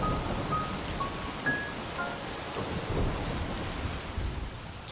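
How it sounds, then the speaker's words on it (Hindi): Heavy rain pours steadily with a deep rumble of thunder underneath, loud and constant throughout. "बहुत जोरों की बारिश।"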